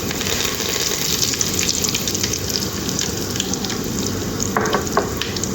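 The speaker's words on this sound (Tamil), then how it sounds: "கடுகு பொரியட்டும். இது நல்லா பொரியுது." Mustard seeds, urad dal, cumin and curry leaves fry in hot oil for a snake gourd poriyal, giving a dense, steady crackling sizzle close by, with a few brief sharper pops near the end and no talking.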